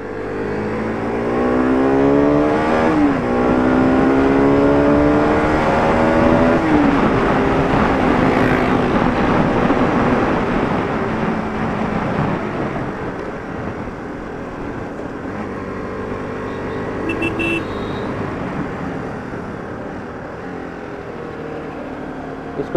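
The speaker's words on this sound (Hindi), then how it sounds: "ओहो गाड़ी पहाड़ पे आ गई" A car climbs a monsoon-wet mountain road on a rain ride toward Lonavala and Panchgani, its engine droning steadily with rising and shifting revs alongside constant road and wind noise, fairly close and continuous.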